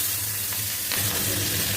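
Nigella seeds, dried red chillies and slit green chillies frying in hot oil, a dense, even hiss of sizzling close up with a brief flare of crackle partway through, no voices.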